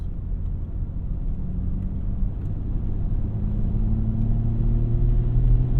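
Engine and exhaust of an MHD-tuned BMW 340i xDrive heard from inside the cabin, a steady deep rumbling drone that swells gradually and grows louder toward the end.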